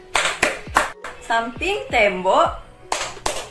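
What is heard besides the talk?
rhythmic hand claps in Indonesian tepuk rumah clapping game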